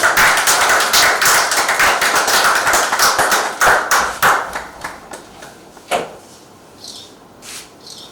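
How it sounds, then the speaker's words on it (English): Round of applause at a Government House ceremony, loud and dense for about five seconds, then thinning into scattered individual claps that fade out. "Can we please have a round of applause?"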